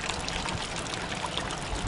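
Storm rainwater pouring and trickling into buckets, a steady close splashing wash of water with no pause.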